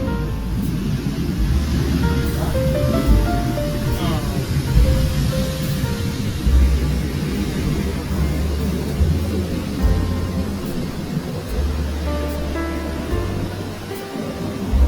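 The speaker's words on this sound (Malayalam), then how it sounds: "പൂർവാധികം ശക്തിയോടെ തിരമാലകൾ ഇങ്ങനെ അടിച്ചു കയറിക്കൊണ്ടിരിക്കുകയാണ്" Sea waves surge and crash on Vettukad Beach in Trivandrum on a sunny day, a loud, continuous roar of surf with a low rumbling undertone and no voices.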